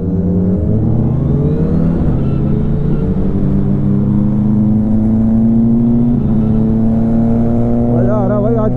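A superbike with a quickshifter accelerates hard on a ride toward Himachal, its engine droning loud and close with rising pitch and brief steps as it changes gears, mixed with wind rush.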